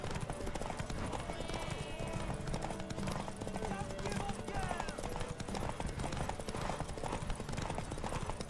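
Horse hooves clip-clop in a fast, steady gallop in The Witcher 3, loud and continuous beneath a dense bed of other game sounds.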